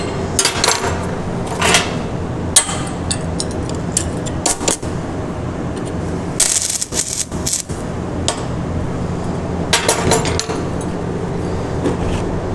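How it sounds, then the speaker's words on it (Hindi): Chipping hammer knocking slag off a weld in a workshop: bursts of sharp metallic taps and clinks come in irregular clusters over a constant background hum, close and fairly loud. "चिपिंग हैमर से मैं इसके ऊपर से थोड़ी स्लैग रिमूव कर देता हूँ"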